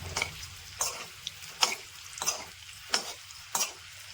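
Eggs sautéed with salt and chilli in a pan, a soft sizzle under a series of distinct spatula scrapes and stirs, roughly every half second to a second, heard up close.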